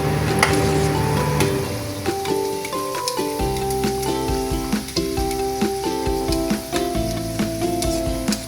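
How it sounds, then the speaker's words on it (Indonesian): Oil sizzles and crackles steadily as filled chicken pastel pastries deep fry over medium heat, with soft tonal notes playing underneath throughout. "Kita menggoreng dengan api yang sedang aja ya, supaya tidak gosong guys."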